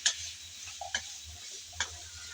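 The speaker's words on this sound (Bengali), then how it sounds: "মিষ্টি কুমড়া দিয়ে আবারও একটু নেড়েচেড়ে নিচ্ছি তেলের মধ্যে।" Raw pumpkin pieces with skin on are stirred in hot oil, giving a soft low sizzle under three or four brief scraping clicks of the spoon, close by and fairly quiet.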